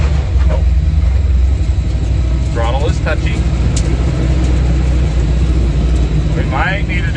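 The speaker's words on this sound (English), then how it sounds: "backing it out of the driveway and I decided to just take it around the block, just basically idling in first gear." A 1955 Ford F1 pickup truck idles along in first gear around the block, a steady low engine rumble close by. Someone talks briefly over it.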